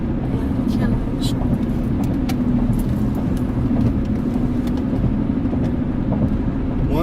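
A car merging onto a freeway drones steadily from inside the cabin, its engine and road noise forming a constant low rumble with no clear surge of revs.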